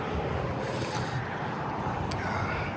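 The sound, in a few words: wind blowing on a hiking trail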